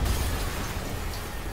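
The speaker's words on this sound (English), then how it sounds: "an explosion" An explosion in the Spider-Man PlayStation 4 video game, a loud, sustained low rumble that fills the short stretch with no clear single blast or decay.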